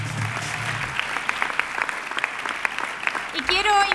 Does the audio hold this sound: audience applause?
yes